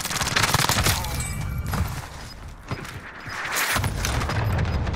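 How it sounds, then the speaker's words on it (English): Cluster strike explosions land in Call of Duty Warzone as a burst of heavy booms and rumbling cracks, loud and close, swelling, easing off, then rolling back with more blasts and gunfire-like crackle. "Enemy cluster strike."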